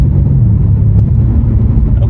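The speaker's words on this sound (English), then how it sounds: "And then there's this car." A car on a Sunday grocery run gives a loud, close, low rumble that stays steady for a couple of seconds, with no distinct talking over it.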